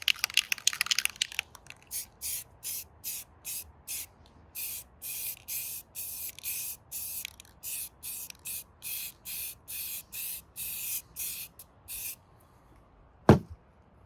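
Aerosol spray paint going onto a car's shifter console, a quick run of short hissing bursts at first, then a long, regular series of about twenty even puffs, ending with a sharp knock.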